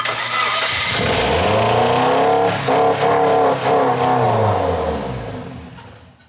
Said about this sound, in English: All right, start her up.